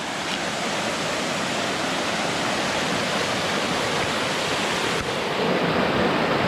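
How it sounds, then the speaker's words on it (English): A waterfall in a Krabi national park pours into a pool below, giving a steady, dense roar of rushing water that stays loud and unbroken throughout. "So there's your waterfall, the way down into the water."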